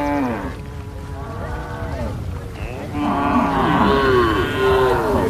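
Cattle at a Wodaabe herders' camp low in long, drawn-out moos, several calls overlapping one another, loud and close.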